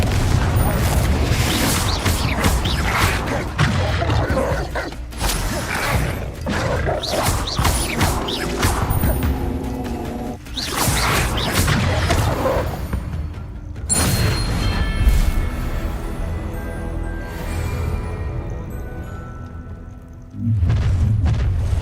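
Confringo fire spell blasts in Hogwarts Legacy combat: loud, dense explosive booms that repeat throughout, mixed with mechanical clatter and crashing game effects, with no pause between them.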